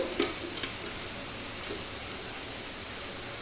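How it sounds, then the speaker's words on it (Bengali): Potato and bottle gourd fry in oil for a yogurt gourd dish, a steady, moderate hiss of frying with a few faint stirring knocks near the start, no voices. "তেলের মধ্যে একটু নেড়ে নেবে"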